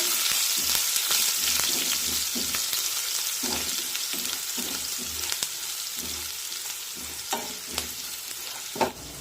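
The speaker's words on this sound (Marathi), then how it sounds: "आता काही सेकंड या मिरच्या परतून घेऊया" Green chilies sauté in a pan, crackling with a steady sizzle while rhythmic stirring scrapes recur every second or so, close and clear.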